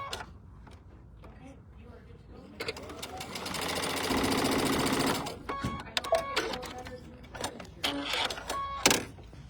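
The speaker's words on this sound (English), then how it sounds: "then we're going to stitch along that diagonal" A sewing machine stitches diagonally across a corner of pink heart quilt fabric in a steady, close burst of a few seconds, with brief clicks and handling noises and talk around it.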